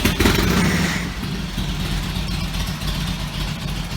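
Indian motorcycle engine, already warm, running at a low idle after starting, a loud burst at first then a steady, lumpy mid-range thrum with uneven pulses up close, no speech over it.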